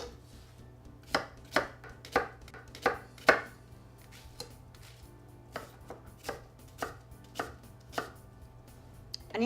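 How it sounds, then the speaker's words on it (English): A knife chops an onion on a board in a series of crisp, close taps, first an evenly spaced run, a brief pause, then a quicker, lighter run of cuts over a faint background hum. "Next, I'm going to cut some onion up."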